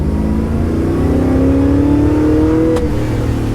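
An LS-swapped Holden HQ revs and accelerates in gear, a loud close V8 note climbing steadily in pitch over several seconds before a brief shift.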